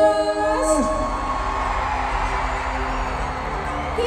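A concert crowd at a music awards show shouts and cheers continuously, a loud, dense wash of voices with whoops rising over it throughout.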